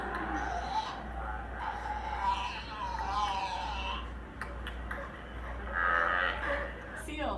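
A seal gives low, drawn-out moaning calls, a few separate cries rising and falling over a steady background hum.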